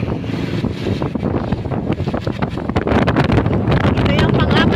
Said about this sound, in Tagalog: Ang hangin, lakas ng ulan.